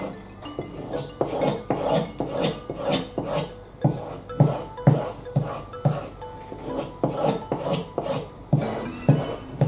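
Knife blade stroked repeatedly across a leather strop after sharpening with a Fiskars pull-through sharpener, a steady rhythm of close, dry rasping passes with no talk.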